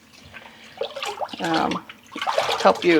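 Dyed yarn skeins held with zip ties are rinsed and swished in water, giving bursts of splashing and sloshing that grow busier toward the end, with brief speech mixed in.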